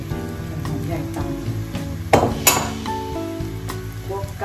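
Onions sizzling in a pan during stir-frying of Thai glass noodles with oyster mushrooms, a steady close hiss with occasional clinks and scrapes of a utensil against the pan.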